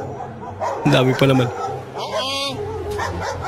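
A big dog gives a couple of short barks partway through, mixed in with a person talking and reacting over it.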